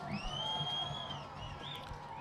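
A soccer crowd cheers after a goalkeeper's foot save in a Savannah Clovers FC versus Club de Lyon FC match, a distant whooping roar with high shouts rising and then easing.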